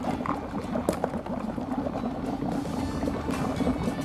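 Ice dropped into a liquid during a science demonstration sets off steady, dense bubbling and fizzing that keeps going without a break, close and fairly loud.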